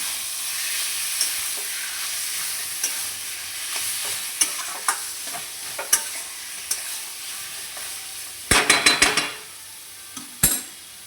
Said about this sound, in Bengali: কচু শাকটা একটু নেড়ে দিলাম।